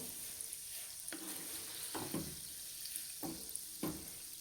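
Gulab jamun sizzle softly in hot oil while being gently stirred, a faint continuous frying hiss broken by a few light knocks and scrapes of the utensil.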